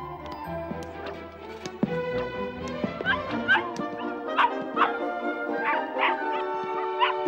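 A small dog barks and whimpers repeatedly indoors, sharp yips and whines coming in an uneven rhythm over a soft background tone, with no talk.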